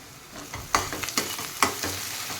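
Peanuts dropped into hot oil for kanda poha, a close crackling sizzle with several sharp spits and stirring clatters in an irregular rhythm, without speech.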